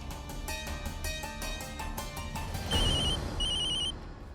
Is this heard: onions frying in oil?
no